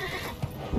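A horse neighs in Assassin's Creed Brotherhood, a short whinny over soft in-game background ambience, with a couple of low thuds like hooves.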